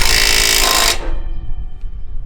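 A power tool tightens a cam bolt on a MacDon FD2 Series header, a loud close rattling burst lasting about a second before cutting off, leaving a low idle rumble.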